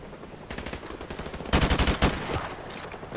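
Gunfire in Call of Duty Modern Warfare Remastered: rapid automatic bursts, a lighter rattling stream first, then a louder, heavier volley of close shots around the middle, tapering into scattered fire.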